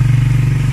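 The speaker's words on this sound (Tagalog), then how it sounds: "Ayun, si Sir Eric, yan yung motor niya" A Suzuki Raider R150 motorcycle engine idles close by with a steady, throbbing low rumble and rhythmic pulsing, loud and alone.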